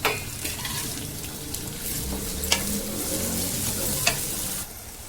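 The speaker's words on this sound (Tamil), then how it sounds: "வெங்காயம் நல்லா வதங்கிடுச்சு. இப்போ தக்காளியும் நல்லா வதங்கணும்." Onions and tomatoes sauté in a pan, a steady close sizzle with scraping stir strokes and a few sharp utensil clinks, fading slightly at the very end; no one speaks.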